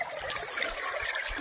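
Muddy reservoir water from the Bhavanisagar dam is strained through a cloth towel, a close, continuous trickle and patter of water with no voices.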